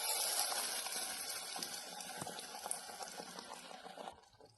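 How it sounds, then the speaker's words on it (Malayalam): Melted ghee pours into a pan for carrot payasam, a soft continuous liquid trickle and gush heard up close and faint, tapering off at the end. "ഇപ്പോൾ ഉരുകിയൊക്കെ വന്ന് നമുക്കിത് ഒഴിച്ചു കൊടുക്കാം."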